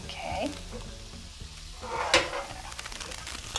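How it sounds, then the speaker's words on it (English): Cabbage frying in a wok for vegan Hawaiian kalua cabbage, giving a continuous crackling sizzle with stirring scrapes and an occasional metallic clink, close and moderately loud, with brief voices talking over it. "it's sizzling and it smells pretty good"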